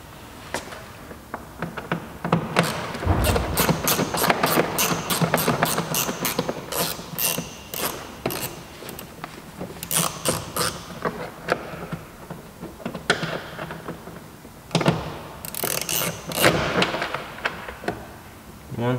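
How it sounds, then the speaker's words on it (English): Plastic door panel clips being pried off a Citroen C4 Picasso, heard as a series of sharp cracks and pops, some in quick bursts and others spaced out, with creaking plastic in between. "After that, we start to pop up the clips."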